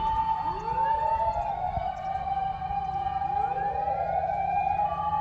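Several police car sirens wail at the scene of a wildfire in Japan, their rising and falling tones overlapping at moderate distance over a steady background rumble, with no talk.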